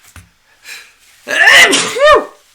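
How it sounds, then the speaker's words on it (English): A single loud sneeze, preceded by a couple of faint sharp inhales, close to the listener. "Oh my God, I'm going to sneeze."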